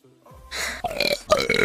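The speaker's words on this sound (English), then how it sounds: "Burp." One long, loud burp rolls out, followed by a couple of shorter guttural bursts, close to the microphone with no talking over it.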